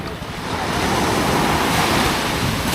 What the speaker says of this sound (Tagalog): Medyo may alon eh, kaya hindi masyadong makaano.